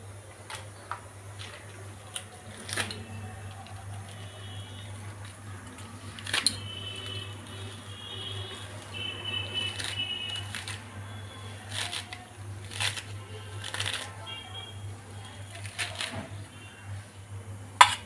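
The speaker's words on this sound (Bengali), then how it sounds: "এগুলো এবার আমি সুন্দর করে কুচিয়ে নেব।" A knife chops fresh spring onions on a board while an egg roll is prepared, giving a run of light, irregular taps and clicks over a steady low kitchen hum.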